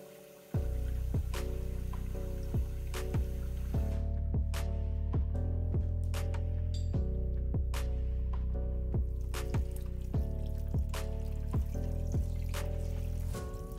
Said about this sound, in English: just filling it up with clean cold water